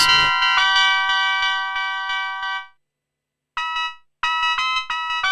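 Layered synth pads sustain as bright bell-like chords in an electronic music track, ringing for nearly three seconds before a pause, then returning in short rhythmic stabs with a clear echo.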